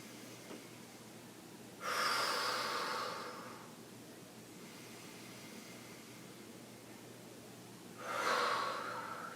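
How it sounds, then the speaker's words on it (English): Slow, deliberate breathing during a yin yoga session for the spine: two long, airy breaths about six seconds apart, each lasting roughly two seconds, close and clear over a quiet room hum. "Few more breaths."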